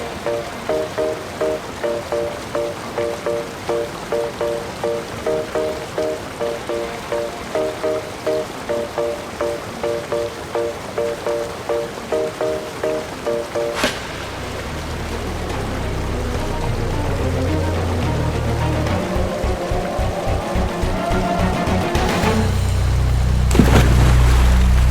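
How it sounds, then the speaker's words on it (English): A waterfall in Hawke's Bay, New Zealand, grows from a faint background rush into a loud, steady roar as it draws nearer, after a stretch of regular rhythmic tapping. "I already can hear sounds of the waterfall."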